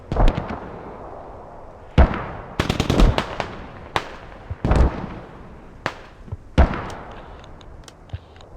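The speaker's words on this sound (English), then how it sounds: "Another big good rocket barrage." A rocket barrage in a competitive squad-based military shooter match, a rapid series of loud booming impacts and blasts, some clustered in quick bursts, with rumbling tails between them and no talk over them.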